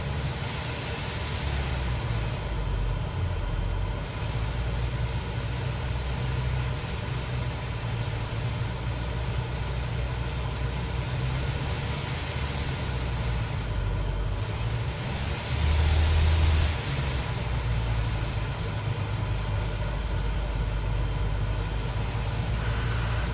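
In Flight Simulator 2024, an aircraft engine drones at a steady low pitch throughout, with a slight swell in loudness partway through.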